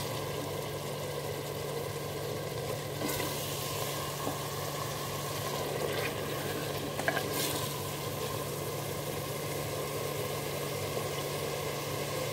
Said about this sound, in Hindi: इसको भी थोड़ी देर भूनेंगे।